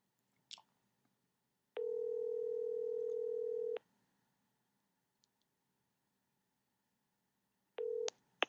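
Telephone ringback tone for an unanswered call, a single long steady electronic tone, then a short clipped restart near the end, faint clicks between, quiet and alone with no talking.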